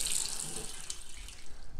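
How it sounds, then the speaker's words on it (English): Hot water runs from a household sink faucet in a steady hissing splash, close and continuous, with no voices. "you just want to turn on the hot water on one of your sinks"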